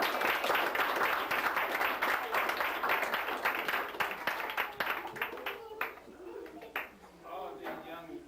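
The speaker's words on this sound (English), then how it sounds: "I think we all need to give Patty and her sister a round of applause for doing the meal." A family gathering at an 80th birthday party claps for Patty and her sister after the meal, with dense, lively applause that thins out and fades while voices start to come through.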